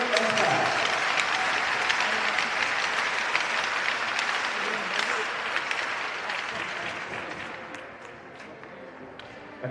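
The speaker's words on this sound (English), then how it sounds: "please join me in one more round of applause for all veterans" A crowd at an amateur hockey game applauds veterans in a long, dense round of clapping that stays steady and then gradually thins, with voices faintly mixed in.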